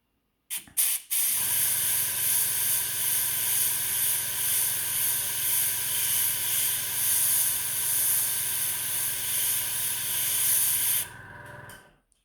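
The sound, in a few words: airbrush spraying black paint through a stencil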